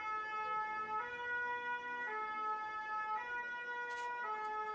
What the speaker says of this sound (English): It's a very loud siren here in France.